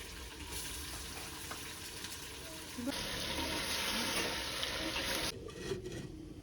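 Chicken pieces go into a pot of fried onions and cook with a soft, continuous sizzle and bubbling hiss that swells in the middle, with light clatter of stirring.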